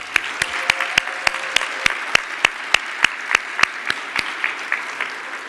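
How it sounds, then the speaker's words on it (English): Applause for Forty Under 40 honorees at an awards event: crisp, evenly spaced claps ring out in a steady rhythm, close and distinct over a softer layer of scattered clapping. "Let's give them all another big round of applause."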